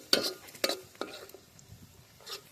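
Onions frying in oil for egg curry are stirred in a pan, a few sharp scraping strokes over a light, close sizzle.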